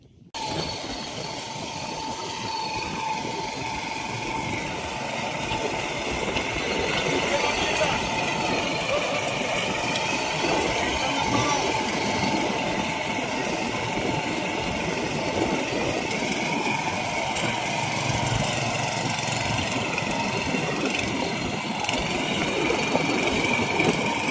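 A tractor-mounted rotavator tills a farm field with a steady, droning engine roar and constant churning rumble, close and unbroken, while voices speak over it.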